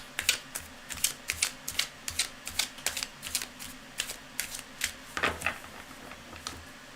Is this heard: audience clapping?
no